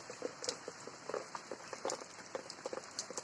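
Steady rain patters down in a soft, continuous wash, with scattered irregular drops tapping on surfaces nearby throughout.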